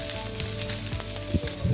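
Onions sautéing in oil in a pan give a steady, soft sizzle throughout, with a few short louder crackles and stirring bumps toward the end and no voices.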